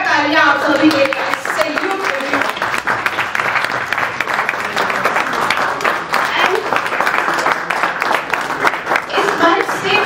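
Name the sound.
audience applause at a Women's Day event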